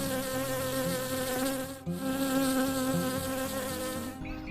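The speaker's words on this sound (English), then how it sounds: "The bees have been in the hive for a day now." Dense, steady buzzing of many honey bees close by around a hive, a continuous droning hum with a brief dip partway through.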